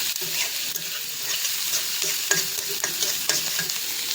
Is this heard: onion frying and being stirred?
yes